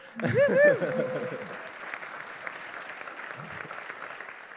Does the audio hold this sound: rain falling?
no